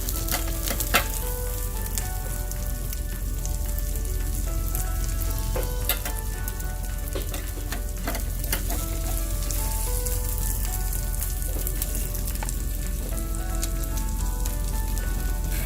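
A beef burger patty topped with melting havarti cheese sizzles steadily in a pan, a dense continuous frying hiss with scattered pops and crackles at close range, no voices.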